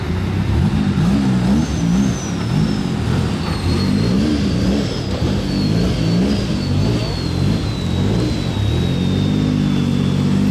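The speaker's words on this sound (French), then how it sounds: "La voiture de course sur la route, c'est Monaco style." A loud Maserati MCXtrema race car engine revs and roars up close on a street, pitch rising and falling in repeated bursts, with a faint high whine running steadily above it.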